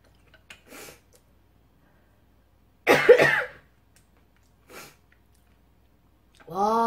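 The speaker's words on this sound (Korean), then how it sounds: "와, 방금 기침." A person coughs sharply in a single burst during a home-cooked Korean mukbang meal of salmon sushi, fish cake soup and pajeon, with a few faint breaths and throat sounds around it and a short voiced noise at the end.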